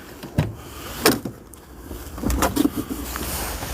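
The door of a fully electric car opens with a soft mechanical click and thud, followed by a low whirring motor hum and a few light clicks.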